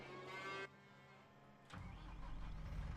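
A small, compact farm tractor's engine cranks with a whirring starter, then catches and settles into a steady, loud diesel idle after a brief quiet pause.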